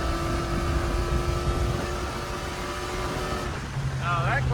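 A car engine with an aftermarket clutch drones steadily under load, holding a sustained mechanical hum with a faint shift in pitch near the end, heard from inside the vehicle.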